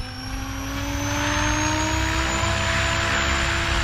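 An RC helicopter's rotor spins up to a higher head speed, its loud, close whine rising steadily in pitch and then holding as a sustained buzzing drone.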